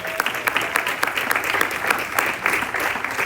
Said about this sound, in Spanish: Dale un aplauso a Dios si lo recibe.